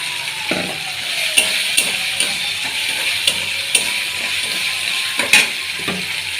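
Peanuts frying in spice masala, a loud continuous sizzle broken by sharp, irregular scrapes and clacks of stirring against the pan, close up, with no voices.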